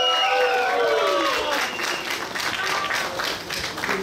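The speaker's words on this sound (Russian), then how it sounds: "Наши аплодисменты!" Applause from an audience at an outdoor business regatta event at a Moscow yacht club, steady and fairly loud. A voice over a PA system is heard near the start.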